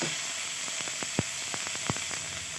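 Chopped onions fry in a pan for a vegetable dish, a steady sizzle with scattered sharp pops and crackles over a constant hiss, and no voices.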